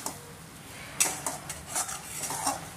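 Metal utensils scrape and clink against a pan in irregular stirring strokes as salt-and-turmeric-marinated prawns fry, with a faint hiss of frying beneath.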